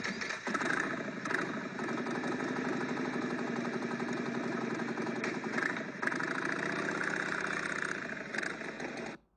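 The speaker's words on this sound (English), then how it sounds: "In this first example, there is a motorcycle starting." A motorcycle engine starts and settles into a steady, even idle that runs for about nine seconds at moderate level before cutting off abruptly, with no voices.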